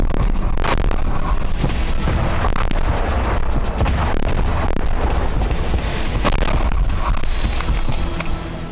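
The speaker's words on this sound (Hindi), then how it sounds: "बेलगोरोद में भी यूक्रेन लगातार गोलीबारी कर रहा है।" Sustained gunfire and artillery shelling in Belgorod, dense overlapping bangs and booms over a constant roar of noise, loud and continuous throughout.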